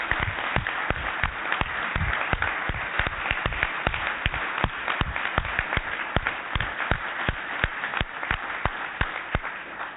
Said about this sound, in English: I think that deserves a bit of applause.